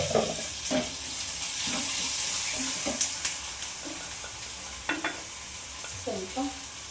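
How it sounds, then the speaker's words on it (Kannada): Chopped tomato sizzles and fries in a pan, a steady soft hiss broken by scraping stirs and clinks of a spoon against the pan, close by and fairly quiet. "ಇಲ್ಲಿ ಒಂದು ಟೊಮೊಟೊ ಹಚ್ಕೊಂಡಿದ್ದೀನಲ್ಲ ಅದನ್ನು ಹಾಕ್ಕೊಂಡ್ಕೊಂಡಿದ್ದೀನಿ."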